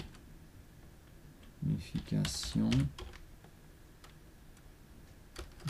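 Quick keystrokes on a computer keyboard while entering text in AutoCAD, a brief cluster of close, clicky typing in the middle with a few scattered taps afterward, partly overlapped by a voice.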